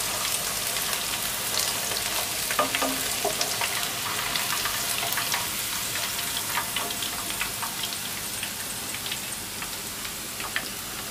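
Chicken strips frying in hot oil give a steady, dense sizzle scattered with small crackles and pops, close up and continuous with no talking.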